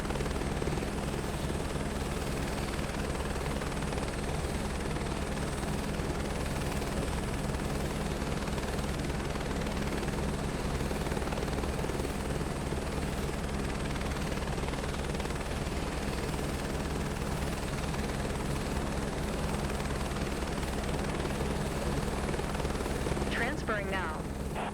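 Helicopter hovering in Microsoft Flight Simulator 2024, a steady, loud rotor and engine drone filling the whole stretch without a break, with a player's voice talking over it.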